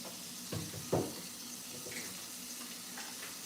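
Hot water runs from a tap while an ice machine is rinsed, a steady faint stream with a couple of brief splashes and clunks near the start.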